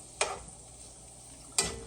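Frog legs cook down slowly in a pan over moderate heat, giving a quiet continuous sizzle broken by two short scraping stirs, with no talking.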